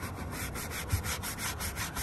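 Leather cleaner and conditioner being rubbed into leather by hand, a close, steady rhythmic scrubbing with even back-and-forth strokes and no talking.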